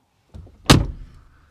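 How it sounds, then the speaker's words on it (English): Door of a 2024 Mercedes-AMG G63 4x4² pulling itself shut with its soft-close mechanism: a faint rustle, then a single solid, muffled thunk close by, fading into a low rumble. "That's soft closing inside a G."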